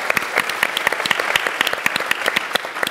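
An audience at a Silicon Valley energy event applauds, giving dense, steady clapping with distinct sharp claps standing out close by throughout.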